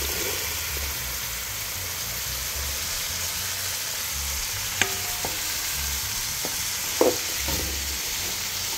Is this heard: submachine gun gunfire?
no